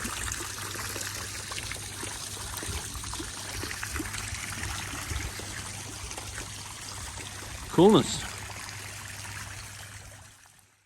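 A small waterfall pours and trickles steadily into a pond nearby, a continuous splashing flow; a voice briefly speaks near the end before it fades.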